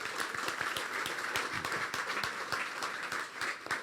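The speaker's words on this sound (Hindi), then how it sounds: "शाबाश, अपने लिए तालियां बजा दे।" Dense, steady applause from a church congregation, many hands clapping continuously at close range with no pauses.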